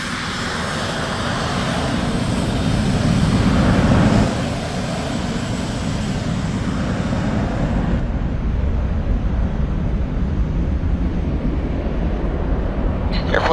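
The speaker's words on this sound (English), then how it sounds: "accelerate to 120 knots, where the throttles are then actually brought back to minimum afterburner" A civil supersonic jet takes off on afterburner, giving a loud, continuous roar that swells early, then steadies as the throttles ease back. Faint radio-style talk is mixed in.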